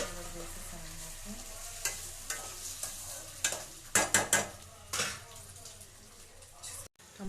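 Tomatoes and onions fry in a pan for an egg curry, a continuous soft sizzle broken by several sharp scrapes and clatters of a spoon stirring against the pan.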